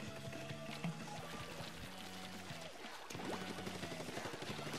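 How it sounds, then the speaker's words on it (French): Ink spraying in the Splatoon video game, heard as a continuous rushing, pouring hiss over busy game music and effects, steady and moderately loud throughout, with no voices. "Allez hop, on arrose tout."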